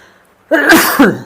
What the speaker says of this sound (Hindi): बेटा खांसी भी इसी समय आता है।